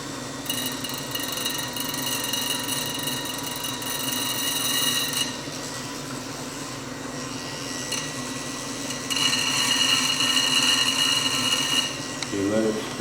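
A lapidary wheel grinds the back edge of a round cabochon stone, a steady close whine with rasping contact that swells louder in some stretches and eases in others throughout.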